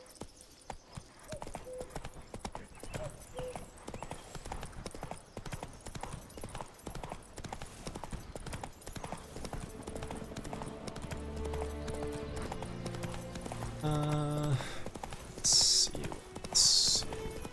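Roach, Geralt's horse in The Witcher, trots with steady clip-clop hoofbeats under game music and someone talking over the gameplay, with a snort or whinny near the end.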